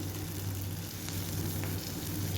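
Onions, green chilies and curry leaves sauté in a pan for a goat blood fry, giving a faint, steady sizzle over a low background hum.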